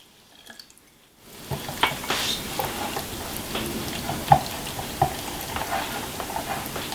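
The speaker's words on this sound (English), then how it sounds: "I'm just going to start a little at a time and whisk it together" A quiet whisk works through potato salad dressing, starting after a near-silent second and then keeping up a soft, continuous patter of scrapes and light clicks, fairly close and fairly faint.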